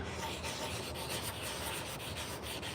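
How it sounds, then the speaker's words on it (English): Steady abrasive rubbing of sandpaper over a hand-carved wooden teaspoon with a natural curve, a continuous close scratchy rasp with no pauses and no voices. "this is going to sand out nice here"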